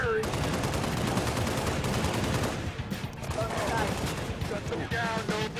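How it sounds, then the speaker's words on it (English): Rapid gunfire from the Halo: Reach campaign, continuous loud automatic bursts and blasts with battle effects, while voices speak over the shooting. "Firing!"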